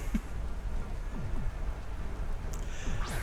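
Rain weather effect in a Pokémon battle game, a steady patter of falling rain with scattered droplet hits and a faint rumble, continuous and fairly close.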